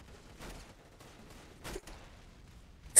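Gunfire in the Roblox shooter Arsenal, a few scattered shots that crack faintly in the distance, then a louder, closer burst right at the end.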